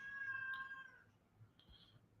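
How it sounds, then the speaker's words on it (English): A cat meowing loudly from a distance, a drawn-out wailing cry that fades, then a shorter faint call, heard faintly over a quiet indoor background. "A cat is screaming for help."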